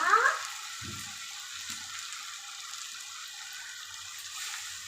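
Squid dropped into a hot pan of fried onion, tomato, ginger-garlic paste and masala, a brief burst of sizzling at the start fading into a steady, moderate frying hiss with a few soft clunks.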